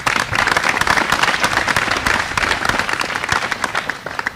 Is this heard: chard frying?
no